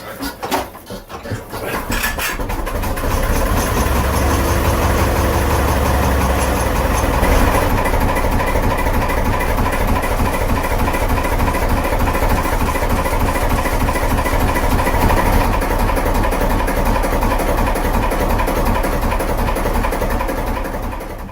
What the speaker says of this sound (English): JP4 diesel engine cranking to life on a frosty morning with a reluctant hand start